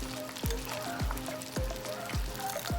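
Lumpia Shanghai egg rolls fry in hot cooking oil with a steady crackling sizzle, while a regular series of low thumps recurs about every half second beneath it.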